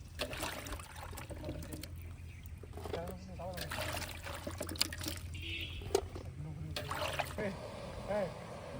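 Mung dal is washed in water with gentle swishing, trickling and pouring sounds, close and quiet, while a person talks over it.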